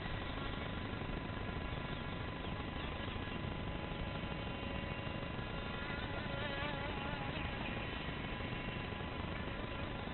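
A remote control boat's motor buzzes steadily on a lake, a continuous insect-like whine with a slightly wavering pitch that holds for the whole stretch, with no talking over it.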